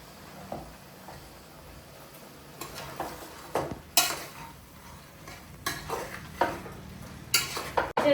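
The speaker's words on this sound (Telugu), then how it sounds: "దీన్ని ముక్కలకు అంతా పట్టేటట్టుగా మంచిగా కలుపుకుందాం" Mutton pieces being stirred and mixed with turmeric and ginger-garlic paste for a Telangana-style curry, with soft scraping and clinking of a spoon against a metal pot that grows louder toward the end.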